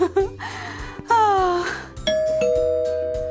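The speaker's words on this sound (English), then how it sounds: "That's the doorbell." A loud electronic doorbell chime rings out, a few bright tones sliding and then holding, over a backing of steady music.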